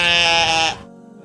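A sheep gives a single loud, close bleat lasting under a second, with a wavering tone that cuts off abruptly into quiet.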